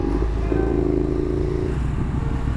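A modified 150cc motard motorcycle is ridden, its engine droning steadily and close under wind and road noise, with no speech.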